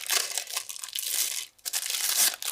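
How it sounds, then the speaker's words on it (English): Kitchen scissors cut lengthwise down the middle of a nail file, making a close, continuous crunching and crinkling rasp with one short pause partway through. "So you want some like kitchen scissors. Cut it down the middle."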